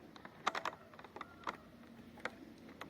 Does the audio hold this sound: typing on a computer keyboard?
yes